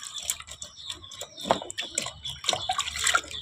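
Water splashes and drips while a hydroponic maize fodder tray is washed, with irregular close splashes and trickling and some faint voices in the background.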